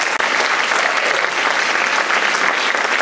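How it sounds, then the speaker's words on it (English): An audience at a school academic awards night claps steadily, a dense and even round of applause filling the room for a few seconds. "So how about a big round of applause for Tim Grisone?"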